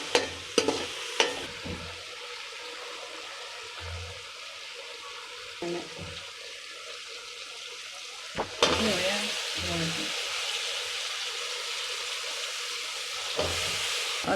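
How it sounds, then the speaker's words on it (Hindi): Spice masala with ginger, chilli and salt being fried and stirred in a pan for brinjal rice, a soft continuous sizzle broken by several scraping stirs and clinks, close and fairly quiet. "हम इसको अच्छी तरह मसाले को भूनेंगे।"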